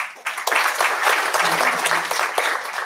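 An audience at a Polish-Ukrainian scientific conference applauds: a burst of dense clapping that rises quickly and stays even and fairly loud, with a faint murmur of voices underneath.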